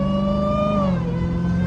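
Dodge SRT Hellcat engine, a loud, close, steady tone that eases from a higher pitch to a lower one as it settles, with no pause.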